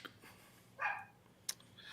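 A dog barks once, a short sharp bark at moderate distance, followed by a faint higher yip, with quiet room noise around it.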